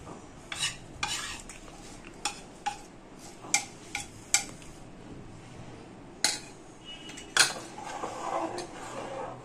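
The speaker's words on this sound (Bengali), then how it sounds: "এবার এটা ভালো করে এর সঙ্গে মিশিয়ে নেব।" A spoon stirs khoya kheer into simmering milk in a pan, producing a dozen or so irregular close scrapes and clinks against the metal over a faint bubbling simmer, with no talking.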